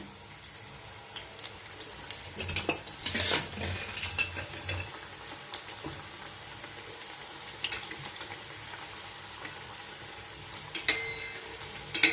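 A samosa sizzles after being lowered into hot oil, giving a soft bubbling crackle broken by clinks and stirring bursts, fairly quiet and close, with no voice.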